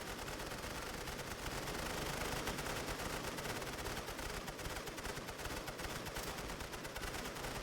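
Continuous machine gun fire rattles through a World War 1 strategy game battle, a steady, unbroken wash of distant rapid shots mixed with the crackle of fighting, moderately faint and without talk.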